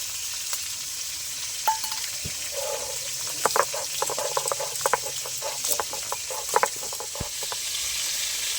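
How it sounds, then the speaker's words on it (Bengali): Fish frying in oil sizzles steadily at moderate level, broken by scattered sharp pops and crackles and a few light knocks, with no one talking. "মাছগুলো যত সময় ভাজা হচ্ছে"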